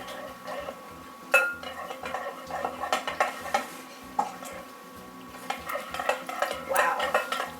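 Slime is stirred in a bowl with repeated wet, sticky squelches and soft clinks against the bowl, close and irregular, with no talking.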